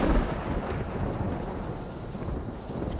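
Lightning from Thor's Stormbreaker in the Roblox game Thanos Simulator: a dense, continuous rumbling crackle that stays loud and steady for a few seconds, with no voices over it.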